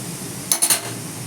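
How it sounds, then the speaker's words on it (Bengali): A lid set onto a wok of steaming jackfruit, giving a few quick metallic clanks close by, three knocks in under half a second, with no talking. "এবার আমি ঢাকা দিয়ে দেবো কড়াইটা"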